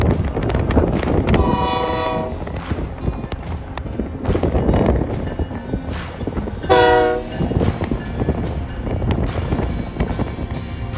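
A BNSF light power locomotive move rolls through 28th Street Yard in Duluth, its loud engine rumble and clanking carriages steady throughout, with two long horn blasts sounding about five seconds apart.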